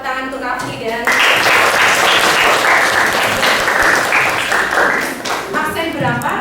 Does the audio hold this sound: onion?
no